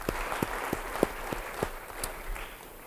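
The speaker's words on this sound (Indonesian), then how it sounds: "Beri tepuk tangan bagi dia." A church congregation claps in scattered, separate hits about three times a second, fairly faint and reverberant, with no talking over it.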